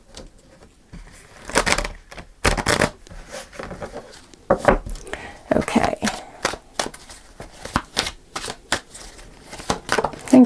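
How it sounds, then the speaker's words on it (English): Tarot cards are shuffled in a series of quick riffling bursts, close up, with soft rustles between them and a voice briefly speaking. "I'll just shuffle one more time."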